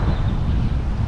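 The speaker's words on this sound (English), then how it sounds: "A little windy." Strong wind buffets the microphone outdoors at a Texas museum, a loud continuous low roar with no other sounds over it.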